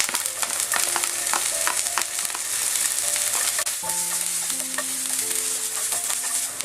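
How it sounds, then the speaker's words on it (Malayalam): Carrot and capsicum sizzle loudly in hot oil over a high flame while being stir-fried for vegetable fried rice, a steady close crackle with stirring scrapes throughout and no talking. "ഈ ക്യാരറ്റൊക്കെ എണ്ണയിൽ കിടന്ന് നന്നായിട്ടൊന്ന് സോട്ടാവണം"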